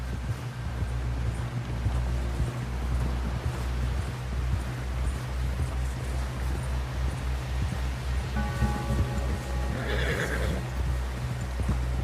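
A horse whinnies in a video game while steady clip-clop hoofbeats run underneath, a low constant hum behind them, with a louder neigh near the end.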